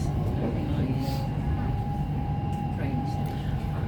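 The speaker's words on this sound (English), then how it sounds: "We're about 40 minutes on this train" Inside a passenger train travelling between Chester and Liverpool, a steady low rumble and hum of the carriage on the rails persists, with a faint whine and occasional soft voices under the constant noise.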